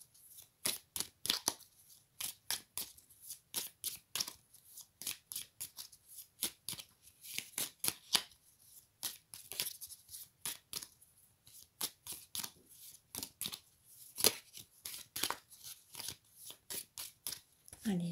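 Oracle cards being shuffled and cut by hand, a long run of crisp, rapid riffling flutters in irregular bursts, close and fairly quiet, with brief pauses between.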